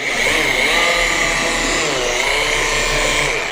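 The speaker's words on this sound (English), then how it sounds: "when it comes to the polisher speed, we're going to start off on the first speed setting" A car paint polisher runs continuously on its lowest speed setting, a steady loud whirring drone with slight wavering pitch, close up and alone without talk.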